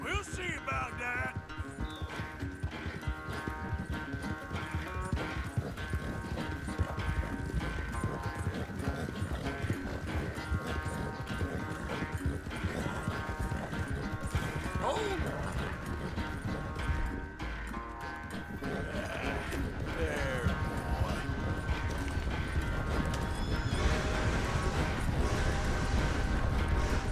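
A horse gallops in Red Dead Redemption 2, its steady clip-clop hoofbeats running throughout under dense game music and ambient sound.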